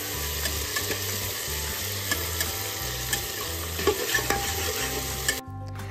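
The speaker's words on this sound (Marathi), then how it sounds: "त्याच्यानंतर कांदा, टोमॅटो आणि मटर पण भाजून घ्यायचे." Onion, tomato and peas frying in a pan, with a steady sizzle and repeated scraping stirs and spoon clinks, close-up and continuous, with no voices.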